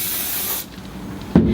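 Hairspray hisses from an aerosol can onto freshly back-combed victory-roll hair, a loud, close continuous spray burst that cuts off after about half a second, followed by quiet handling and a brief soft knock.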